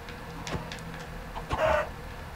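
A Minecraft chicken gives a few soft, brief clucks, faint clicks followed by a slightly louder squawk near the end, with no talking over it.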